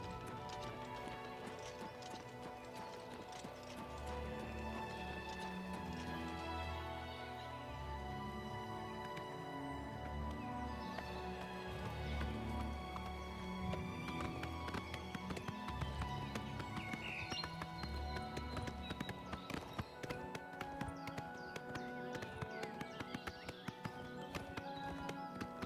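Horse hooves gallop in a steady clip-clop rhythm in Oblivion Remaster, running continuously under a dense layer of game music with no talking.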